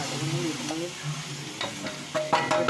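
Seasoning sputters and sizzles in hot oil in a pan, with a few sharp crackles and stirring scrapes close by and no talking.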